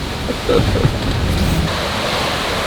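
Rough Pacific storm waves break over a sailboat in 40-knot winds, a loud, broad wash of surging water and wind noise with a stronger surge around the middle.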